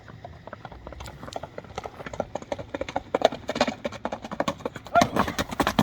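Horses gallop in an ulak race, a quick uneven clatter of hooves on hard ground that grows louder and nearer, with men calling out over it.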